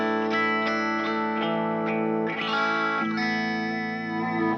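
Electric guitar played through an effects setup at low volume, a clean tone with chorus and echo shimmer, a run of sustained, ringing notes close and alone.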